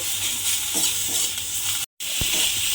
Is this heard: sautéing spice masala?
yes